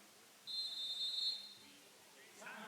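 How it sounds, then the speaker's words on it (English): A referee's whistle sounds at a women's college basketball game between Oakland and Madonna University. One shrill blast of about a second cuts through the indoor arena murmur. "Whistle's blown after some big contact."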